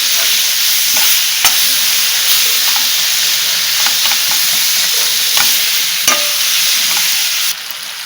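Chopped tomatoes are stirred and sautéed in a pan for chicken tikka biryani, a steady close sizzle with repeated sharp spatula knocks and scrapes against the pan, no talk.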